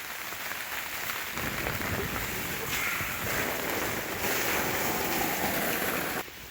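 Steady rain falls outside a farm shed in Portugal, a dense, even hiss of drops on surfaces that continues throughout at moderate loudness.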